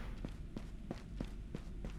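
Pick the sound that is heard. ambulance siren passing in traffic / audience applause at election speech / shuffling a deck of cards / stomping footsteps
stomping footsteps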